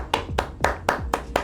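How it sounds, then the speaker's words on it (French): Six evenly spaced sharp claps spaced about a quarter second apart, fairly close and moderately loud, with no talk, following a call for applause for a youth men's national team's bronze medal. "applaudissements s'il vous plaît"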